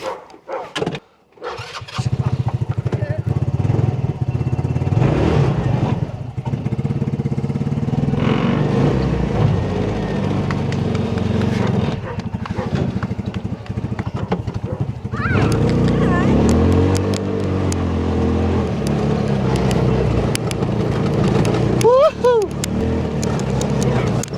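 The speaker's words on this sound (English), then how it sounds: "So it's a 2018 Polaris Ranger 150." A 2018 Polaris Ranger 150 utility vehicle engine runs steadily at close range, with a brief dip near the start and a rising rev later, while people talk around it.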